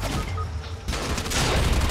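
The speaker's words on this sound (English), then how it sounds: "Yeah, I'm getting shot at though." Gunfire in the video game Fortnite: a dense, rapid burst of shots crackling continuously over about two seconds, loud and close with a brief lull in the middle.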